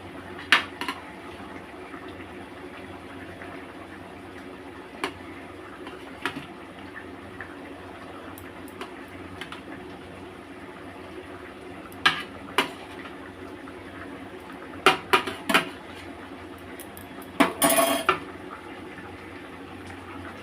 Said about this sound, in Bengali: এই চিংড়ি মাছ কটা আমি দিয়ে দিচ্ছি।